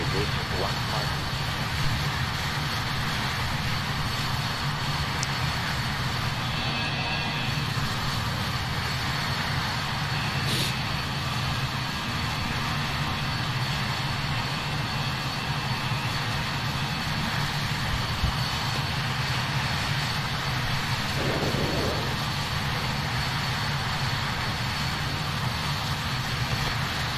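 Jet engines of a simulated BAe 146 airliner roar steadily through the takeoff run. The noise is a loud, continuous broadband drone with a faint whine on top, and radio-style speech is mixed in beneath it.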